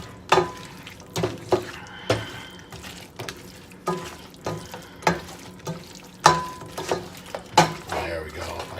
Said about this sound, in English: You're just kind of warming up the tofu again. You're getting that sauce all over everything.